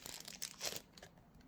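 A small zip-lock plastic bag holding rings crinkles in short, close, quiet bursts of rustling.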